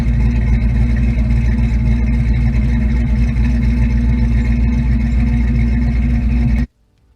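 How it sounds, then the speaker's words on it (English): A 1979 Mustang Indy Pace Car with an off-road H-pipe and Flowmaster catback exhaust, giving a loud, deep, steady engine rumble heard up close. It runs continuously, then cuts off abruptly near the end, with no voices. "the exhaust note is just music"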